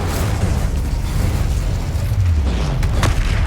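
The Incendio fire spell is cast in Hogwarts Legacy, a loud deep whooshing roar and rumble that surges steadily throughout, close and dominant.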